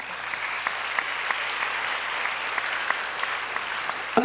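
A high school church group applauds during a Sunday sermon, moderate, steady clapping from a roomful of students with a few sharper individual claps standing out, with no talk over it.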